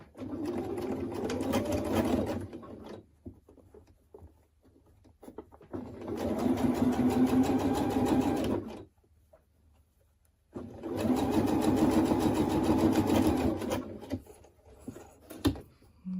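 A sewing machine stitches the edges of cap fabric in three steady bursts of about three seconds each, a close, loud whirring hum with short quiet pauses and small handling clicks between runs.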